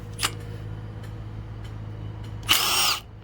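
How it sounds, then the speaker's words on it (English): A Milwaukee power tool spins out head bolts on a Craftsman 15.5 hp engine, with a brief whir, soft ticks, then a louder half-second burst near the end over a low steady hum. "Now let's start ripping out some head bolts. We got the Milwaukee set to old number 3."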